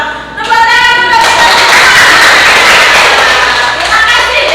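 A classroom of students claps loudly together after an ice-breaking activity, a dense, sustained burst of hand clapping close by, preceded by a brief moment of other sound.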